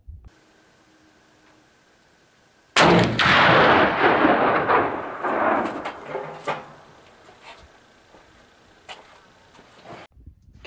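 A single loud, close blast from a CVA Elk Horn Pro Mag muzzleloader rifle on a shooting range, after a quiet lead-in, with a long rolling echo that decays over several seconds, then a few faint clicks and handling noises.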